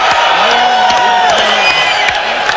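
Boxing arena crowd reacting after the first round of a fight, a loud sustained roar with whoops and scattered cheering, dense and continuous throughout.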